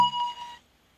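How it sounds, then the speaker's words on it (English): Bright chime tones ring out together in a short burst, sustaining briefly before fading to silence within about half a second. "How about I turn those chimes off?"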